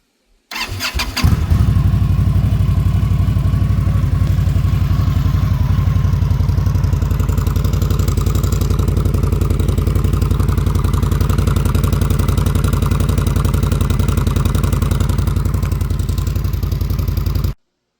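A 2016 Indian Scout motorcycle fitted with an upgraded aftermarket starter cranks briefly and catches, then settles into a loud, steady close-up idle that runs without pause for over fifteen seconds, with no talking.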